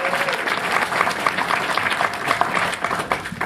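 An audience claps and cheers in a lively, uneven burst of applause with scattered louder claps and shouts, close and full for a few seconds.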